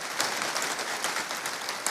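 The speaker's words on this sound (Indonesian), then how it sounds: "berikan tepuk tangan yang meriah buat Tuhan" A church congregation claps during a sermon, a broad wash of many hands applauding at moderate distance, steady and even with no clear voices on top.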